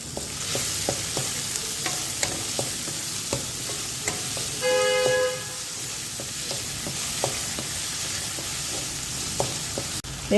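The white part of spring onions sizzles steadily in a pan while being stirred for gobi manchurian, with light scraping ticks scattered through a continuous, close frying hiss.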